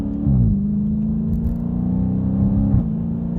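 A Dodge Challenger Scat Pack with an 8-speed transmission drives nearby, its engine note dropping on an upshift and then holding a steady, loud, rumbling drone before another gear change near the end, with no talk.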